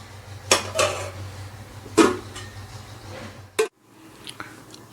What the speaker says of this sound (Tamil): இது ஒரு கொதி வர வரைக்கும் ஒரு தட்டை போட்டு மூடி வைப்போம்.